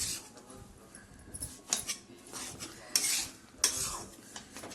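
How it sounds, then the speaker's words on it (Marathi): Grated coconut being stirred and roasted in a pan for wheat-flour laddu, soft scraping and rasping strokes at a steady pace with a few louder clatters of the spoon against the pan. "आता खोबरं टाकून घेऊ। अजून त्याला थोडं परतून घेऊ।"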